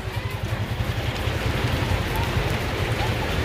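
Heavy rain falls steadily on a city street during a traffic clearing operation, a dense continuous hiss with a low rumble, loud and close throughout with no pauses.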